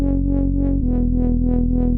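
Speed garage synth bass with the drive distortion turned up, a gritty buzzing low tone pulsing in a steady wobble that drops in pitch partway through, loud and alone.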